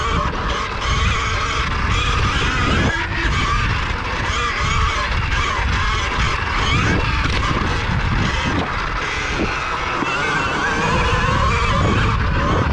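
A 2020 KTM Freeride E-XC electric dirt bike being ridden, a loud steady rush of motor whine, wind and tire noise with rough bursts as the ground changes, no clear talk.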